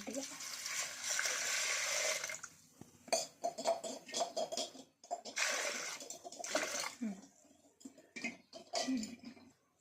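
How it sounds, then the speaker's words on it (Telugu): Water gushes into a cooking pot holding chopped ginger and green chillies for a village-style dal charu. It is a loud, steady pour for about two seconds, followed by shorter splashes and clatter. "వాటర్ పోస్తున్నాం"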